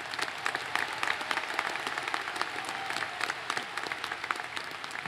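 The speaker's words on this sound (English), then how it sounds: "A round of applause for these outstanding students." Steady applause from a large commencement crowd, many hands clapping continuously at moderate distance.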